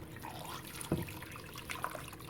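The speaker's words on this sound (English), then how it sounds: "So right now I'm going to add the water." Water poured into a pot of okra pepper soup, a brief splash and gurgling trickle close by, with a sharper splash near the start and another toward the end, no talking.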